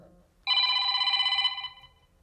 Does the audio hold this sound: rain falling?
no